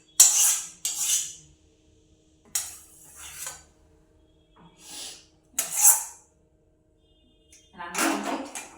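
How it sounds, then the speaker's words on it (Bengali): Dishes being washed by hand after cooking, with separate close clatters and clinks of utensils and pots in short bursts divided by quiet pauses. "রান্না কমপ্লিট, এবার শুধু ধোয়া মাজার পালা"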